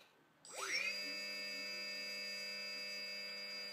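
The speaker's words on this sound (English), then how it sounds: "the motor that is running well" A small RC electric motor on a Flysky FS-T4B receiver test spins up quickly, then holds a steady, clean whine with a low hum beneath, close and alone.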